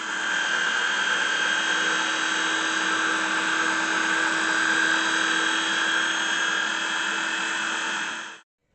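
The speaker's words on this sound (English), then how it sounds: "So now I'm getting ready to cut the peppers in slices. Makes a lot of noise." An electric kitchen slicing device cutting peppers whirs loudly and steadily for about eight seconds at close range, then abruptly stops, with no talking.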